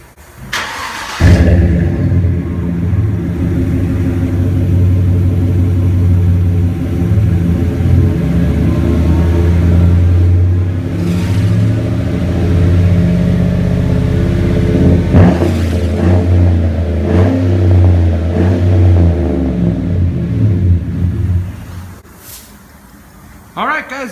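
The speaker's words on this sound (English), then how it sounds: "So let's go ahead and turn it on and see how it sounds." A 2014 Chevy Silverado 1500 with a 5.3L V8 and a Flowmaster 40 series one-in, two-out muffler with black powder coated tips starts up and idles with a deep, steady rumble, blipped by a few revs, close and loud, then cuts off near the end.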